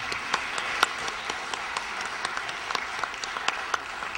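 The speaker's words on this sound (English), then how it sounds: "How about we give a big round of applause for the candidates?" An audience at a school board of education candidates' forum claps for the candidates, a modest crowd with distinct individual claps, steady and moderately loud.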